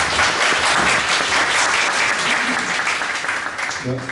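Loud, dense applause from a seminar audience after a lengthy talk on zero-trust OT security, steady for several seconds before thinning as a voice comes in.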